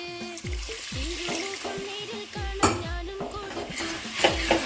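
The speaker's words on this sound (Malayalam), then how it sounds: "നമുക്ക് അല്പം വെള്ളം ചേർക്കാം." Water is added to beef masala frying in a pan, with repeated sharp sizzling bursts and stirring scrapes at close range, rising in a few louder hisses.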